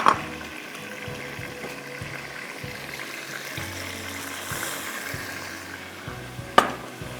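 Water poured into a pot of mutton chops, a steady splashing, gurgling wash with scattered clinks, continuous and fairly close, with a sharp knock near the end.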